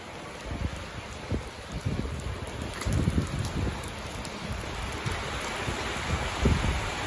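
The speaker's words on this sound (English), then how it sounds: "it's raining hard again here in Pennsylvania" Steady heavy rain pours down in Pennsylvania near a railway track, a dense wash of patter with occasional louder drops and splashes nearby, no voices.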